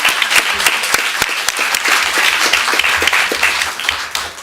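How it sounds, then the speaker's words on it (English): Audience applause at a school board of education meeting, a steady dense patter of many hands clapping throughout, fairly loud and close, with no speech over it. "Give them a round of applause."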